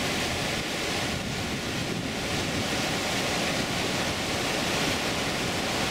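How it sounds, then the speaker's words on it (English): Loud, continuous rushing roar of South Clear Creek, a Colorado mountain stream along Guanella Pass Road, its water churning steadily and close with no pauses. "This is South Clear Creek."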